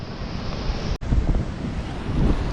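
Water rushes continuously at a mountain viewpoint near Sonamarg, a broad, roaring wash mixed with wind buffeting the microphone, cut by a brief dropout about a second in.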